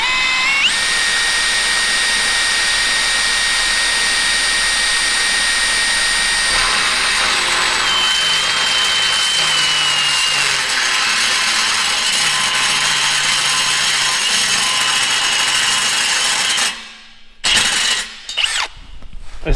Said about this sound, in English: Get yourselves a step drill.